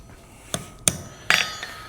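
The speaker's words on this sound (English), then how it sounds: "I'm going to crush this with a hammer." A hammer crushes a part during a custom mini trike build, giving three sharp, separate metallic blows close by, spaced roughly a third of a second apart, with quiet between strikes.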